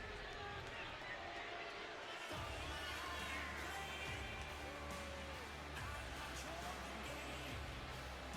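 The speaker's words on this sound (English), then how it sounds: "I love how the crowd's booing him completely" A video game arena crowd in WWE 2K25 booing a wrestler, heard as a steady, distant crowd roar that stays under close commentary talking over it throughout.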